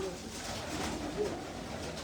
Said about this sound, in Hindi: मेरे घर के कबूतर और आसिफ तैमूरी भाई के कुछ कबूतर हैं